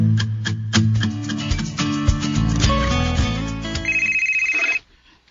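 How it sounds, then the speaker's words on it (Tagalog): A mobile phone ringtone plays loudly and steadily for nearly five seconds, a layered melodic tune with a repeating beeping figure near the end before it cuts off abruptly, heard alone without speech. "ang akong cellphone mibagting"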